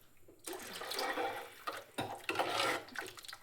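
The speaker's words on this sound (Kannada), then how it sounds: "ಹಾಗಾಗಿ ನಾನು ಇನ್ನೊಂದು ಸ್ವಲ್ಪ ನೀರು ಹಾಕ್ತಿದ್ದೀನಿ." Water is poured in a few splashing bursts into a pot of sprouted horse gram sambar, close and fairly loud, with brief pauses between pours.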